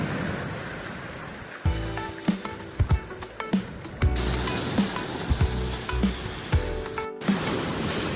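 Ocean surf breaks on a beach with a steady broadband wash and repeated soft thuds, all heard close against a continuous roar.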